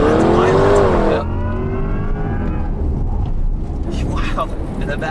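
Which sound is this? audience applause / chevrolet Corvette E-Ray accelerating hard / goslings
chevrolet Corvette E-Ray accelerating hard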